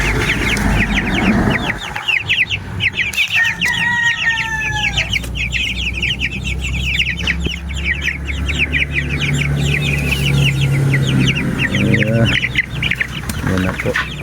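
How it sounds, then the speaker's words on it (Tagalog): Chickens and young chicks cluck and cheep continuously nearby, with busy overlapping calls and occasional louder clucks, while a person talks at times. "Yan po ang update sa ating sisiw."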